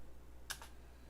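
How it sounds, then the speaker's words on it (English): A single keyboard keypress, one enter key struck with the up arrow key, gives a quick faint double click over a steady low hum. "I'm hitting my enter key with my up arrow key."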